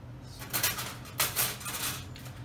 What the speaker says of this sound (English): give it another mix to make sure everything is still well combined